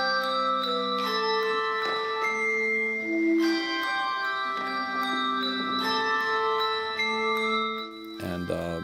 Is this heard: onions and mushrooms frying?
no